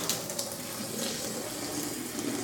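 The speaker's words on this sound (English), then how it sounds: "And flush hot and cold water for 1 minute." A newly installed Kohler kitchen faucet flushes hot and cold water at high pressure, giving a steady, close rushing hiss that lasts throughout.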